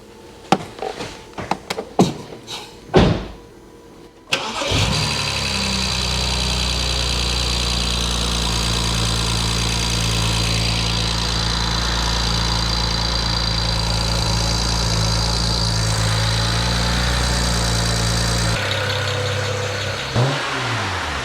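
A BMW N-series petrol engine with leaking injectors is restarted after a few clicks and knocks, catching with a burst and settling into a loud, steady idle hum that shifts slightly near the end.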